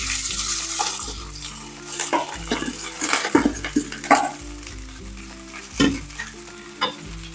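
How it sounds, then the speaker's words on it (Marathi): Cooked rice tipped into a sizzling tempering for curd rice crackles and hisses as it is stirred, with repeated scraping strokes of the spoon against the pan, close and clear with no talking. "आता यामध्ये सोडायचं आहे राईस."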